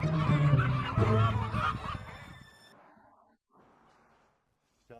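Nixi field chickens, a small native fowl breed from Yunnan, give loud honking, clucking calls up close for a few seconds, then trail off into faint rustling and near silence.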